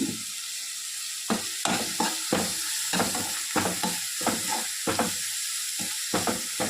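Onions and tomatoes for crab gravy sauté in a hot pan, a steady sizzle broken by repeated scraping stirs of a spoon against the metal at an irregular, close rhythm, with no voices.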